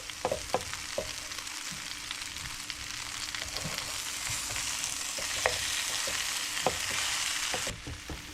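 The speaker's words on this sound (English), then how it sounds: "I'm just going to give this a nice mix and let everything work through" Homemade pierogi and sausage fry in a pan while being stirred, a steady sizzle with occasional scraping knocks of the utensil against the pan, close up, with no talking.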